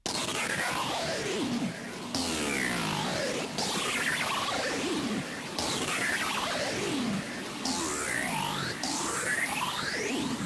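A synth preset made grittier with a grid knob and layered with extra effects, sweeping in loud, dense noisy whooshes and falling pitch swoops that restart every second or two for about ten seconds, with no talking.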